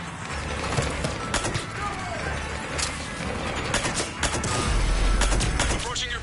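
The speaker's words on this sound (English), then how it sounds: "Just following the gunfire." Gunfire in the video game Mass Effect 3, a dense, continuous battle din of sharp cracks and bursts with crashing impacts, loud and close, running under occasional voices.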